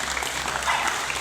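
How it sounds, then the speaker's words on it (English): Applause from an audience at an indoor rowing meet in the Philippines greets an Olympian rower, a steady dense wash of clapping heard alone throughout. "Let's also give Chris a round of applause."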